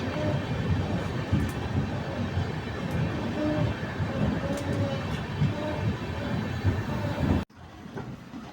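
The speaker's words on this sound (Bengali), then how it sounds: "আর আমাদের ট্রেন এখন এসে পৌঁছেছে নারগুন্ডি জংশন" The 12837 Puri Superfast Express train pulls into Narkundi junction, a steady loud rumble of wheels and carriages filling the scene before cutting off abruptly near the end.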